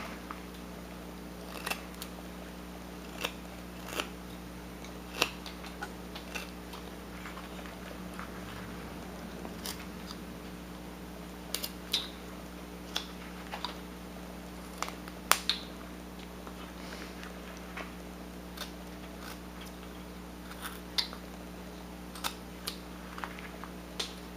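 A knife carves a wooden Civil War figure, giving short, scattered clicks and scrapes of the blade in the wood, close and fairly faint over a steady background hum.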